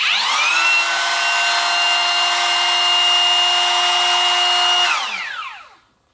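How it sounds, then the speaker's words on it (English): A Ridgid 18-volt cordless trim router runs close and loud with a steady high-pitched motor whine for about five seconds, then switches off and winds down to silence. "Noise levels, it's a router. Of course it's going to be loud."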